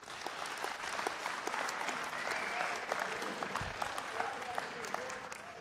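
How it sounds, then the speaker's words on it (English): Steady audience applause for Brandon at a live talk inside Henrico East Jail, many hands clapping evenly for several seconds with a voice or two briefly audible under the clapping. "Let's give Brandon another round of applause."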